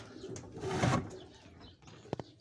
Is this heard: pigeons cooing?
yes